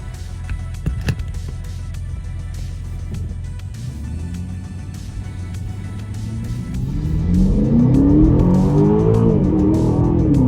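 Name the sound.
Aston Martin DBX or Bentley Bentayga SUV accelerating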